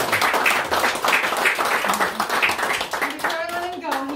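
A small audience claps in brisk, rhythmic applause for a presenter at a community reading event, fading as a voice starts talking near the end.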